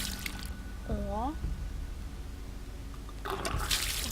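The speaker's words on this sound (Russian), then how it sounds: "Вода." Water splashes and gurgles in a video game, a steady liquid wash with brief bubbling, heard under a person's speech.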